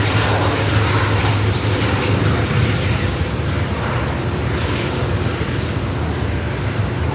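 A fixed-wing airliner on approach to land at LAX, a continuous loud engine roar that holds steady and close throughout.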